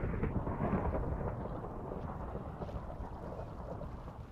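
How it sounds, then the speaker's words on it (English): Thunder in the Minecraft video game rolls as a low, steady rumble that fills the whole stretch at moderate volume, with no one speaking. "The thunder is not at all ominous."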